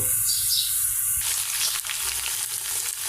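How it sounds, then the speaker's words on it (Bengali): Onions sizzle steadily in hot oil in a pan as spice paste goes in, the close frying hiss shifting in tone partway through and continuing with no talk. "আমার পেঁয়াজটা প্রায় লাল লাল হয়ে গেছে এবার মশলাগুলো দিয়ে দেব"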